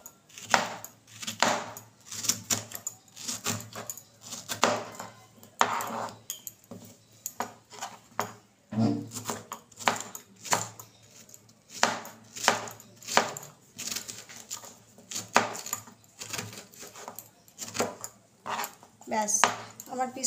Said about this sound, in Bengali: আমগুলোকে আমি ছোট ছোট পিস করে কেটে নেব।